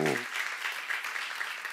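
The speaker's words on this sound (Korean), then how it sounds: "박수 하세요." A church congregation applauds steadily and evenly for a short stretch, with a brief spoken word from the preacher at the very start.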